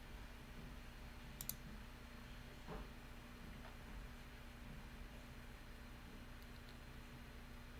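A computer mouse gives a few sparse, faint clicks spread over several seconds against a low, steady background hum, with no talking.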